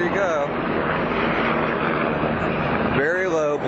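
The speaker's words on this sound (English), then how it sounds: "Very low, black military helicopter." A low-flying black military helicopter passes overhead with a loud, steady engine and rotor drone that rises and falls, while people talk over the roar outdoors.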